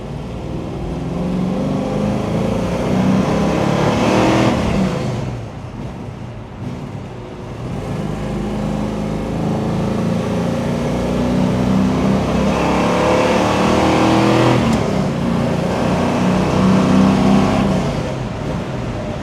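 A 1969 Mustang Mach 1 with a 390 S-Code V8 and four-speed runs loud and close while driving, its engine note rising and falling through revs for the full stretch, with no talk.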